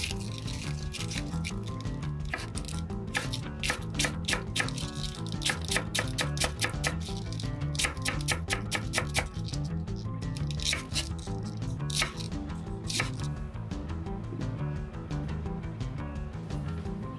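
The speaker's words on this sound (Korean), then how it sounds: "칼에 다치지 않도록 조심하면서 얇게 채 썰어 준비합니다." Cabbage leaves sliced into thin strips with a knife, a rapid series of crisp, close chopping strikes in bursts with brief pauses.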